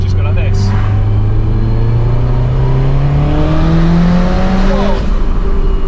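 A 450 bhp Audi TT Quattro Sport accelerates hard from inside the cabin, its engine note rising steadily in pitch through a gear, loud and close, with a brief shift near the end and a voice speaking over it.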